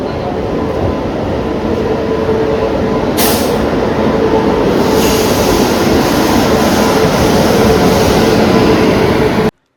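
Inside a crowded Mangaluru Mail passenger train, a loud steady rumble of wheels and carriage noise runs throughout, with a faint rhythmic clatter and a brief bang partway through.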